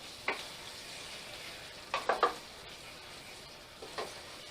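Tomato stirred into beef and wine in a frying pan, with a soft steady sizzle underneath and a few brief scraping strokes of a spoon against the pan, close and quiet.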